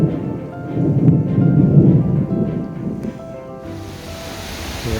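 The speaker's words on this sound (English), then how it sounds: "Hear the thunder." Thunder from an approaching summer storm rolls as a low, rumbling swell that builds and then fades. It is fairly close and loud, with a soft hiss of wind or rain behind it and no voices.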